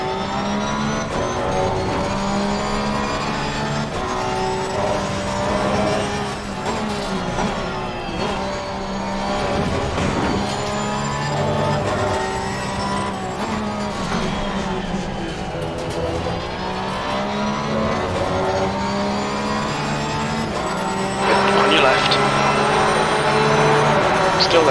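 A Porsche race car in a sim racing game revs and shifts through gears, its engine note rising and falling continuously, with tire noise and other cars close by.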